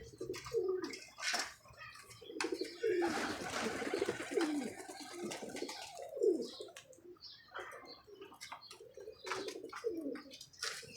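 Pigeons cooing in a loft: repeated low, throaty coos from several birds at close range, with scattered wing flutters and small knocks in between.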